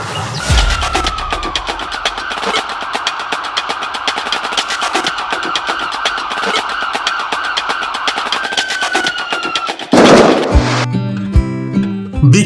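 A gun, loaded with ten rounds, fires at Golap Gram, the rose-growing village. Sharp, rapid cracks repeat over a loud, continuous noise bed, followed by a louder burst near the end.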